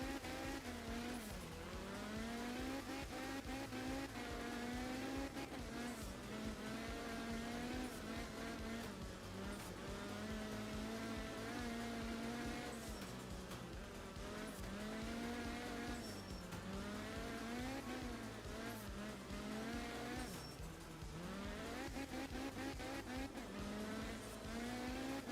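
A rally car engine in the video game art of rally revs and drones continuously, pitch rising and falling as it shifts and corners, with occasional tire noise.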